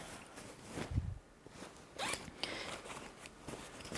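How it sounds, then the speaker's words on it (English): Quiet, close zipper sounds: a couple of short rasping pulls with small rustles and clicks between them, no talking. "so I can also unzip that"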